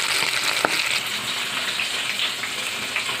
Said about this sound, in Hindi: यहाँ पे विंग्स फ्राई हो रहे हैं